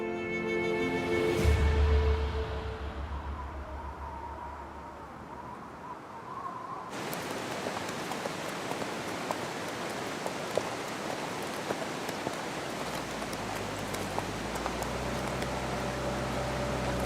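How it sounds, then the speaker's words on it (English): Constant icy rain falls steadily in the mountains of Zanskar, a dense even hiss of drops throughout, preceded by a brief louder rumbling passage. "This morning, the constant icy rain gradually turns to snow."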